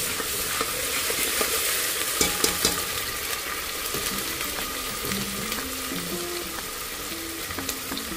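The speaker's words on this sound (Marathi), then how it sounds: "आता मी ना नेहमीच आपलं वाटण जे सगळेच करतात कांदा खोबऱ्याचं ते टाकते" Onion-coconut masala paste sizzles and spatters in a hot pan while a spoon scrapes and stirs through it, producing a steady, close frying hiss punctuated by repeated clinks and knocks.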